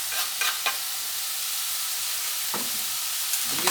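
Carrot, cucumber and sweet pepper frying in a pan, a steady loud sizzle throughout with a few brief stirring scrapes close by.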